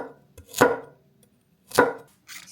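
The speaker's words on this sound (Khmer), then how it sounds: "ហើយខ្ញុំកាត់វាជាទូចជាដុំទៀត" A knife chops a carrot into small pieces on a board: two crisp, close chopping strikes about a second apart, followed by a softer third cut, with no voices.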